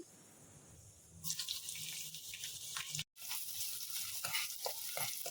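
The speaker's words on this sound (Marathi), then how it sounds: "पनीर असे उलटे केलेले आहे ते पण फ्राय होत आहे" Paneer and onion sizzle loudly in a hot kadhai. A steady frying hiss kicks in after a quiet start, cuts out briefly, then carries on with small crackles.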